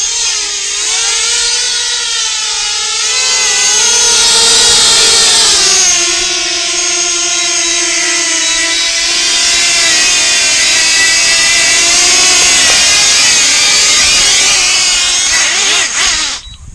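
A drone flies back to its home point on low battery, a loud steady whining buzz of propellers with shifting pitch that holds throughout and drops away only at the very end.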